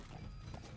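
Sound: horse galloping and neighing in Metal Gear Solid V video game

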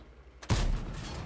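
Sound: tank cannon shot in a video game (tank game)

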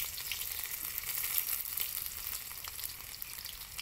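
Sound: ginger frying in a pan

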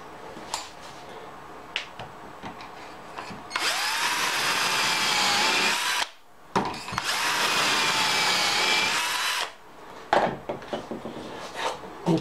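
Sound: drilling a wooden workpiece

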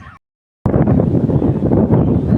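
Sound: morning wind blowing in the countryside

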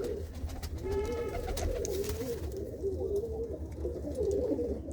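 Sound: pigeons cooing

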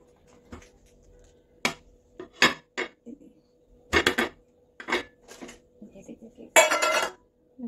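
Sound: cake pan turned out onto a plate, pots clinking

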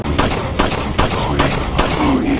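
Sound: gunfire in Resident Evil 4 HD video game

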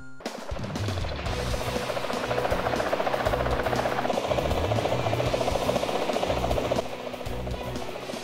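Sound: helicopter in GTA San Andreas video game

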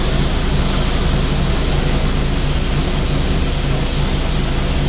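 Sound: airbrush spraying paint on a rocking horse

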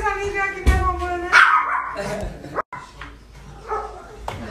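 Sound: dogs barking

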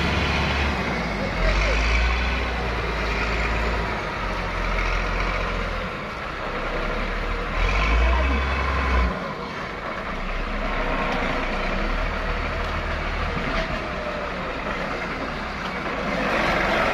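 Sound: Hino truck engine revving, stuck in mud

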